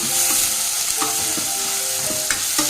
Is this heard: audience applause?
no